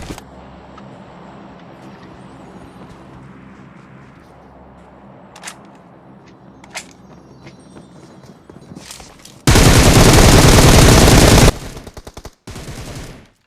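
A video game shootout: scattered single gunshots crack out at intervals, then a loud, sustained burst of automatic fire followed by a few shorter bursts, heard up close with no talking.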